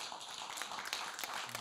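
Audience applause for a young singer at a Romanian folk music event, a short burst of scattered, fairly faint clapping with soft individual taps.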